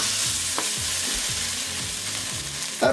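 Chicken pieces with cayenne pepper stirred in a hot frying pan, a constant loud sizzle with rhythmic scraping strokes of a utensil and no talking.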